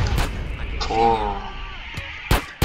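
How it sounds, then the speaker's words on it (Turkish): Explosion in GTA San Andreas, a sharp blast followed by a second burst near the end, heard alongside in-game sounds with no speech. "O da patladı."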